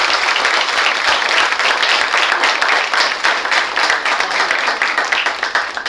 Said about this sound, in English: With a huge round of applause, please welcome Mr. Vineet Handa.